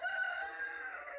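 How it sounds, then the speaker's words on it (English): A rooster crows at a rural property with a barn, one sustained drawn-out call holding steady and fairly close, with no other voices. "Rooster, shut up."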